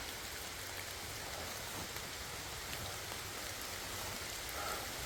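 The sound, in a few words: heavy rain in a forest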